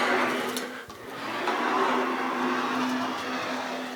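A steel tail panel for a 1956 Chrysler 300 rolls through an English wheel, producing a steady whirring, grinding rumble with a brief dip before the rolling resumes evenly.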